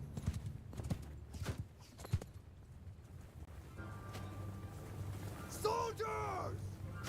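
Cavalry horses moving in the modded Mount & Blade II: Bannerlord video game, rhythmic clip-clop hoofbeats in bursts, followed by a short whinny-like call, moderately faint amid battle ambience with a voice speaking.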